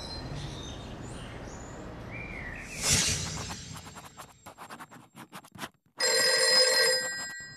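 A telephone rings in a Vietnamese fairy-tale drama. A bright electronic ring bursts in loudly at the end, after softer ambient sounds, a whoosh and a rapid scratchy clicking pass.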